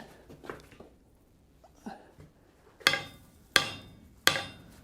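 Three sharp, ringing hammer blows strike a 1 inch round steel bar during hand bending, evenly spaced and close, with faint low voice and shop noise beforehand.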